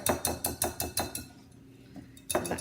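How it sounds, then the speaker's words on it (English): A metal whisk is tapped against a bowl to knock off gluten-free brownie batter, giving a quick run of about seven sharp, close knocks, a pause, then two more. "But you gotta tap, and you can kind of open the whisk a little bit."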